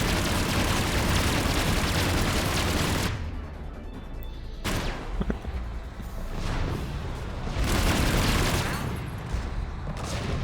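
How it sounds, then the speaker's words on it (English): Mass Effect 3 gameplay with a loud, sustained explosive roar and bursts of gunfire-like crackle, briefly dropping away and then returning in heavy rumbling waves. "Check a big explosion."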